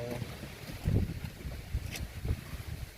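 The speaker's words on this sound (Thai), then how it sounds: "ลมแรงนะครับ" Strong wind buffets the microphone outdoors at a Thai temple grounds, a steady rumbling roar with gusty low thumps throughout, loud and close.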